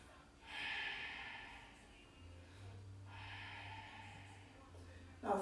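Slow, steady breaths drawn in and let out during a seated twisting yoga pose, two long airy exhalations a few seconds apart, close and soft, with a low hum underneath and a brief sharper sniff at the end.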